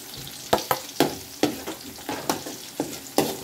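Onions and garlic sautéing in a pan for pork bopis, with a steady sizzle broken by about ten sharp, rhythmic spatula scrapes and taps against the pan, close and fairly loud.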